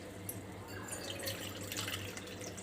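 Water is poured steadily into washed yellow lentils for cooking a simple dal, with a continuous close splashing, trickling hiss and no voices.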